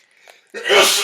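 A single sharp sneeze, close and loud, with a brief breathy intake just before the burst.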